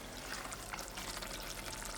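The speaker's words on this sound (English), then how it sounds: "I did add an additional half a cup of water" Half a cup of water is poured into a pot of simmering sem and gadra beans, a brief, continuous splashing rush at close range.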